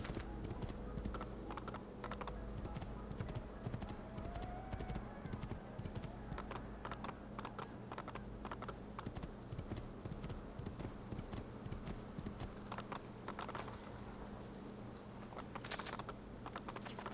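Horse hooves clatter in Assassin's Creed Ezio Trilogy, a fast, steady run of close, rhythmic clip-clop that carries on throughout alongside game ambience.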